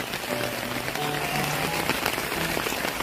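Rain falling outdoors in a steady dense patter on surfaces, continuous and moderately loud for the whole stretch, with no voices.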